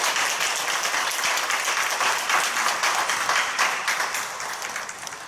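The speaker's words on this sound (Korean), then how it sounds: "우리 한번 박수로 다시 한번 경배하겠습니다" A church congregation gives sustained, dense applause at a Presbyterian commemorative worship service, the clapping steady and fairly loud throughout before easing slightly toward the end.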